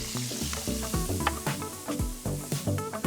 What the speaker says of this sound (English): So the lamb's almost sealed off.